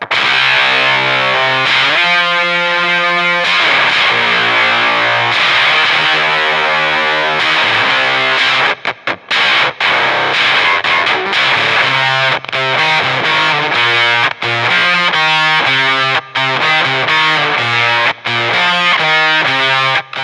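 A distorted electric guitar plays a thick, fuzzy riff alone through a Joyo Voodoo Octave fuzz pedal, with chugging rhythmic chords, brief stops and sustained buzzing notes throughout.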